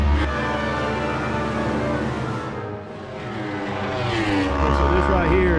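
Superbike racing motorcycles at a road course blast past at speed near turn 9, with loud engine roars that rise, dip and swell again, heard from trackside with a person talking over them.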